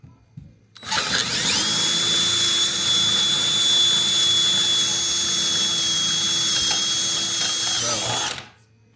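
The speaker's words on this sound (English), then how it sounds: "You're gonna begin drilling a hole in there." A power drill whirs steadily at high speed for several seconds, loud and close, drilling a hole into a metal Rubens' tube pipe, then winds down and stops.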